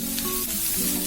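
Tomato sizzles steadily in a hot pan, a continuous close hiss without pauses or voices.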